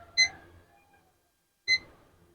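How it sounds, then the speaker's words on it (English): Two short, bright electronic beeps from a kitchen timer being set while pickles are made on an electric stove, spaced about one and a half seconds apart, close and clear in a quiet room. "Now I'm going to set my timer"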